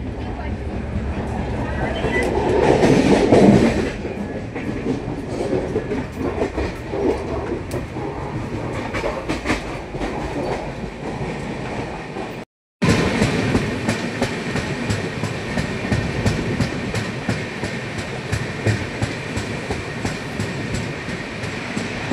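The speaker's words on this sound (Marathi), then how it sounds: "जबलपूर एक्सप्रेस कल्याणला पोहोचलेली आहे" The Jabalpur Garib Rath express runs on rails, a continuous rumble and clatter of wheels heard from inside the train, with a brief dropout midway and voices faintly underneath.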